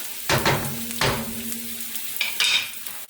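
Onion and garlic frying in olive oil in a wok, a bright crackling sizzle broken by several loud stirring scrapes and tosses, with no talking.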